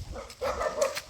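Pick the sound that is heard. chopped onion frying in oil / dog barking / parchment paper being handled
dog barking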